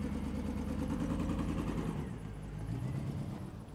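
A rolled-over four-wheel-drive vehicle's engine runs rough and misfires in limp mode with its check engine light blinking, a loud, steady close-up rumble with uneven pulsing that dips and stumbles partway through.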